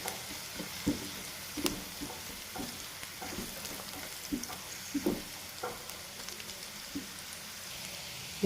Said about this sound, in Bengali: এখন এটাকে ভালো করে ভেজে নেব।